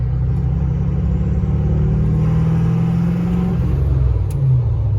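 Tuned Duramax diesel pickup truck pulling hard on an open road at its fifth tune setting, a loud, steady low engine rumble and drone that holds throughout, rising slightly in pitch, with no talking.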